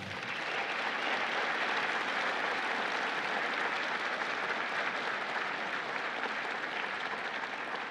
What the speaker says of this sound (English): Join me in giving the first round of applause tonight to this year's Kemp Leadership Award winner